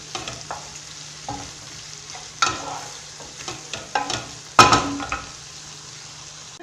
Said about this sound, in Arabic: نقليها مع البصل والثوم والدجاج تاعنا